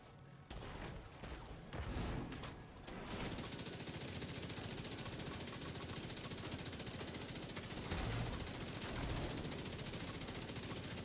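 Rapid automatic gunfire rattles continuously in The Division 2 shooter during a legendary-difficulty arena fight, dense, loud and unbroken after a sparser opening.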